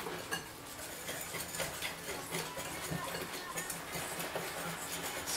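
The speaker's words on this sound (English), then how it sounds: "Mix it up." Batter with vanilla is stirred in a bowl, producing quiet, continuous scraping and light clinking of a utensil against the bowl, with faint ticking in the background.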